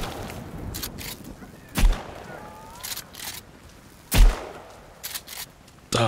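Gunshots ring out in the survival game Sons of the Forest, two heavy booming shots several seconds apart with a few lighter sharp cracks between, over a low ambient bed.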